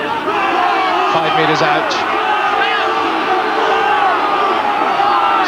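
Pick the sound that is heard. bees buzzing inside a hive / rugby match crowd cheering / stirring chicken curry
rugby match crowd cheering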